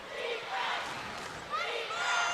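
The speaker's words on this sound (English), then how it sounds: "Chant of defense from the crowd." Home crowd at a women's college basketball game, Gonzaga at Pacific, chanting defense in a loose, swelling roar that rises and falls across the arena, moderately loud and slightly distant.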